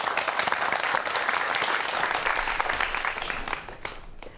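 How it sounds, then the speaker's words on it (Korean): Audience applause greets a forensic science lecture, a full, even crowd clapping that holds steadily and then thins out, with a few last claps trailing at the end. "박수 부탁드립니다."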